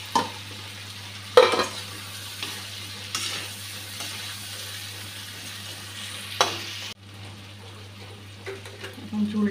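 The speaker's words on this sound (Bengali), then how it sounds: "এখন দিয়ে দিচ্ছি ডিমগুলো।" Eggs go into a fried spice paste in a pan for an egg curry, giving a moderate sizzle with a few clattering stirs and knocks. The sizzle drops off abruptly near the end.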